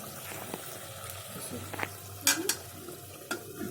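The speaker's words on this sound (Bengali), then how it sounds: "তরকারিটা আবার একটু নাড়াচাড়া দেবো।" A spoon stirs curry in a cooking pan with soft scraping and a few sharper clinks over a low steady sizzle, close and fairly quiet.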